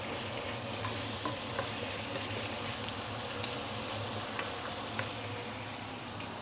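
Chicken pieces sizzle and crackle steadily in a hot wok during stir frying for a chicken stew with potato and carrots, with occasional scraping taps of a utensil.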